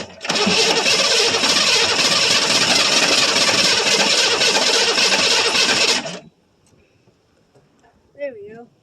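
1982 Chevrolet Silverado K10 with a 6.2 liter diesel, cranked on a cold start after 23 years with a sticky starter: a loud, continuous mechanical churn lasting about six seconds that cuts off abruptly, then a brief voice in near quiet.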